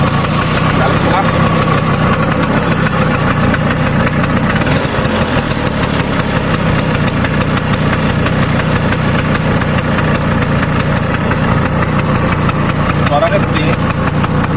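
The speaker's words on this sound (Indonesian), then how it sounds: "Kita coba nih, mesinnya nih. Kita nyalakan saja." An old Vespa scooter engine runs at a steady idle throughout, a continuous low rumble with a faint rattling texture and no pauses.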